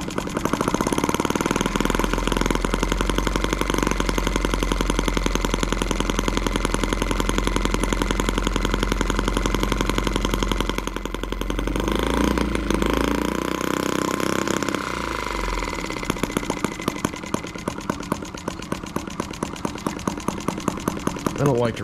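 A small M12B model engine runs on its first start, a rapid, buzzing high-rev rattle close by that dips briefly midway before resuming, with someone talking over parts of it.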